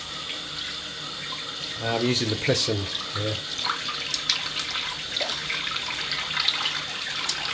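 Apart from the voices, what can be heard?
tap water running to warm it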